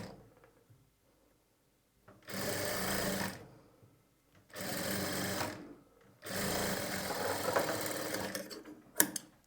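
A sewing machine stitching piping with a double fold runs in three sustained whirring bursts separated by short pauses, close and clear, ending with a sharp click, and there is no talk.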